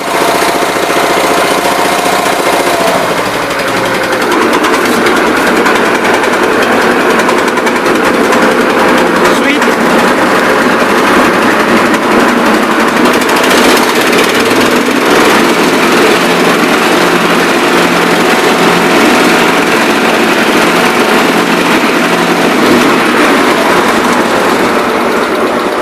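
A mower deck on an Ingersoll 222 garden tractor spins up with a loud, steady mechanical drone alongside the running engine, continuous throughout with little change, while a voice speaks briefly over it.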